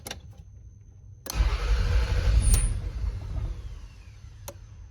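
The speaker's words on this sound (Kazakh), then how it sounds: "Қазір мен стартер қоямын." A Toyota Estima that will not start cranks on its starter, a loud, steady whirring churn that begins abruptly after a brief click and runs for about three seconds before fading, with sharp clicks around it.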